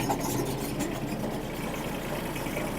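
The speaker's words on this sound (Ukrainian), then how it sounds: "Ось бачимо робота фрези." A Kubota GB-13 mini tractor runs its rotary tiller, producing a steady, moderately loud low engine chug with a faint rhythmic knock and a broad churning rush over it.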